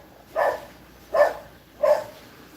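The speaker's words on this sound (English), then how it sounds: "All I hear my neighbor dog was barking just now." A neighbor's dog gives three evenly spaced barks, muffled and at a moderate distance, each one short, against a quiet background.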